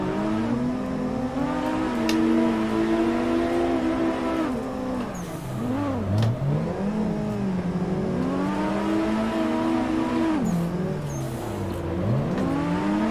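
Engine revving hard and steadily in Assetto Corsa during drifting, with repeated rising and falling pitch sweeps as the throttle is worked, loud and close, with no talking over it.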